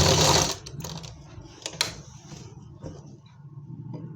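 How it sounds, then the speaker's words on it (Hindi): Sewing machine running a seam along the top edge of an Afghani plazzo, starting with a loud close whirring burst that drops to a softer steady hum with light mechanical ticks. "अब इस पे एक सिलाई लगा लेंगे ऊपर की तरफ।"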